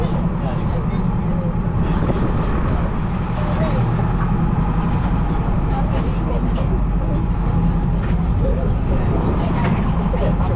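A tractor passes on a farm road near Snettisham, a steady close engine rumble and rattling drone that holds at an even level throughout, with no clear speech.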